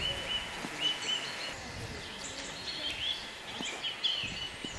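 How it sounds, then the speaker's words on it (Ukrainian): Nuthatches calling in courtship beside a tree hollow in a spring forest, thin high whistled notes repeated irregularly at moderate distance over a soft woodland background with other birds faintly present. "Біля дупла токують повзики."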